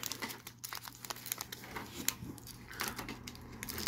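Crinkly plastic booster pack wrapper being torn open by hand, a run of close, dense crackling and ripping noises with no talking.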